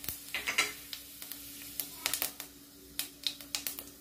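Fennel seeds crackle in a pan of heated oil for pepper chicken. Soft, sharp pops and taps come in quick scattered bursts at fairly low volume, with brief quiet gaps between them.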